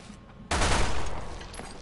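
A sudden burst of gunfire in the video game Resident Evil 6, a single loud sharp blast with a fizzing tail that fades out over a second or so.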